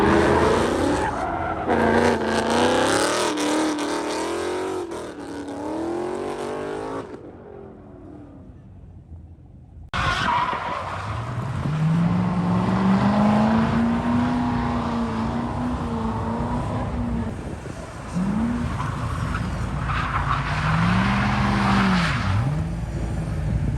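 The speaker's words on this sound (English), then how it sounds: "And what is drifting without a lot of spin-outs?" Drift cars rev hard and spin out on a track, their tires squealing in long, rising and falling screeches over loud, close engine roar, with a short quieter gap before the noise returns.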